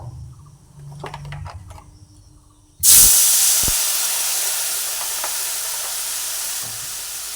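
Water poured into a hot frying pan of potol with turmeric and spices, bursting into a loud, sudden hiss of steam that settles into a steady sizzle, close and without talk.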